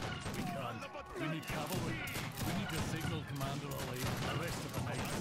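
Rapid volleys of musket fire in Age of Empires 3 with the Wars of Liberty mod, as Ottoman Janissaries shoot in a busy battle, crackling continuously and dense under game noise, with a voice talking over it.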